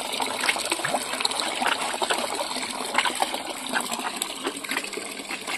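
Murky water supplied through a public water supply pipe flows steadily, a constant gushing and splashing rush heard up close with no talk over it.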